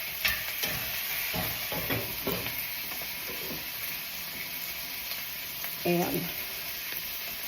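Onions, Brussels sprouts and a pork chop sizzle in a pan over medium-high heat, giving a steady close hiss with occasional clicks and utensil scrapes, and a voice briefly speaks over it.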